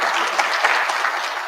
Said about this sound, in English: You can all clap for yourselves.